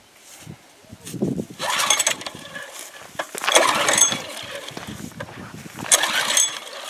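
A small engine sputters and catches after a couple of pulls, then revs unevenly in bursts, loud and close.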